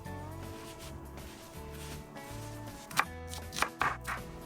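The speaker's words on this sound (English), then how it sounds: "Now I'm just going to go ahead and mince up my onion." An onion minced with a knife on a board while cooking kebabs outdoors at a campsite: regular, close chopping taps in an even rhythm, growing a little sharper and more clustered toward the end.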